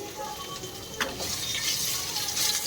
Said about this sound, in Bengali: এবার আলুটা একটু ছাঁকা তেলে লাল লাল করে ভেজে নেবো